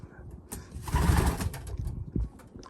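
Racing pigeons in a loft during spring cleaning, soft low cooing from the birds close by, mixed with brief shuffling and scraping sounds and a faint voice in the background.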